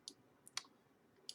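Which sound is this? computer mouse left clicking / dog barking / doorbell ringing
computer mouse left clicking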